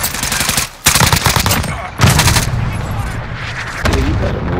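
Gunfire from a multiplayer shooter video game rattles in loud, rapid bursts, with sharp breaks between volleys and a dense, close sound, plus faint voices underneath.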